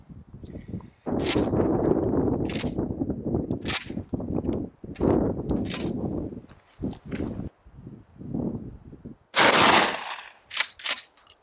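Shots fired at targets from a gun fitted with a Hawke Frontier reflex sight: a string of sharp, loud cracks, some single and some in quick pairs, with a tight cluster near the end.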